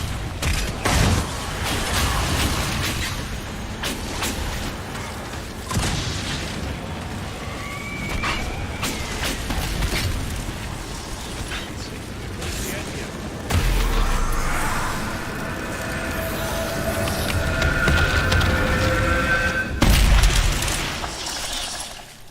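Fire magic spells in Dragon Age Inquisition: repeated crackling blasts and shattering impacts amid a busy, loud battle soundscape, with bursts and tonal whooshes recurring across the span.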